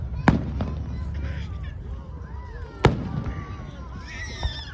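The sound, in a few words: fireworks exploding in the sky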